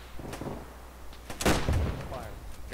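Gunfire in the video game Arma 3 during a Monte Cassino battle: a few scattered sharp shots, then a heavier booming burst, mixed with radio-style voices calling out.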